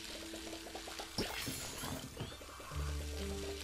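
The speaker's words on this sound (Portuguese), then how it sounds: "Vou dar água aqui para nascer mais tomate." Tomato plants are watered in the video game Palia, a pouring, splashing water effect over soft game music, ending in a brief steady fill tone.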